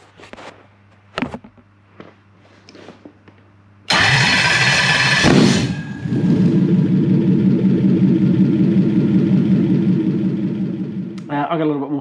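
A Toyota SC400 engine fitted with a Haltech wiring loom cranks and fires into a loud start, then settles into a steady close idle that slowly eases, after a few quiet knocks and a voice beforehand.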